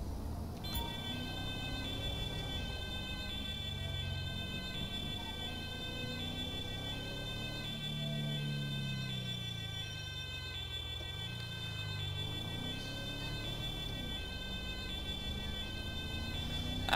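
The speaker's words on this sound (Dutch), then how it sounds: "Ja, best wel een hele Duitse sirene." German-style ambulance siren in GTA V, a steady alternating two-tone wail holding loud and continuous over a low vehicle engine drone, with no talk.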